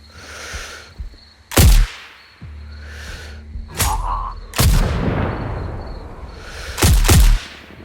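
Gunfire in a video-game shootout in Sniper Ghost Warrior Contracts 2, with several loud, sharp shots spaced irregularly and each one ringing out into a long echoing decay.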